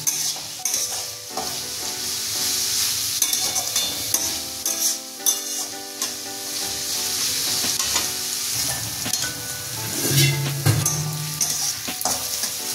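Chopped onion and green chillies stir-fry in a pan for masala noodles, a loud sizzle broken by repeated scrapes and knocks of the stirring spoon, with a faint tonal background underneath.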